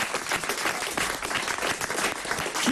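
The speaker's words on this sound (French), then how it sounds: "On peut applaudir Dali Moreau." A studio audience applauds steadily in a dense, even wash of clapping that holds throughout at moderate distance.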